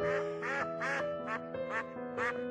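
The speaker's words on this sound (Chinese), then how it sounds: "我还以为是我家的丹丹惊吓到你家的鸭子了呢" Ducks near a family's fishing boat give about five distinct nasal quacks in quick, uneven succession, close and clear over a quiet background.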